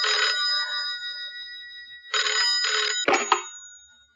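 A telephone bell rings loudly in a quiet room: one ring burst, a pause of nearly two seconds, then two quick rings followed by a clattering pickup as the sound cuts off.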